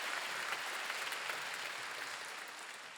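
A church congregation at a Wednesday worship service breaks into applause, a dense, even wash of clapping that holds steady and fades only slightly over three seconds.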